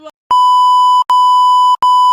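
Censor bleep: a loud, pure electronic tone sounding three times in quick succession, each lasting about three quarters of a second with short gaps between, after a brief faint snippet at the start.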